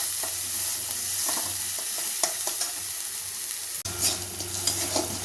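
Ginger-garlic paste with salt sizzles steadily in hot oil while being stirred, with scraping and clinking of a utensil against the pan, close and continuous.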